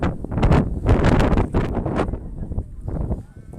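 Cold wind buffets the microphone outdoors around Engelberg, Switzerland, a loud, continuous low rumble with gusty surges throughout.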